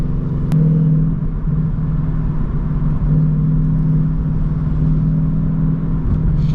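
A Ford Mustang GT rolls through traffic with a steady, loud low engine drone and road rumble inside the cabin, holding an even tone with no speech.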